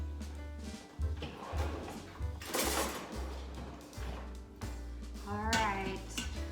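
A spoon is grabbed in a kitchen with clinking cutlery, a drawer being handled and dishes knocking, in several close, irregular clatters with a brief voice near the end.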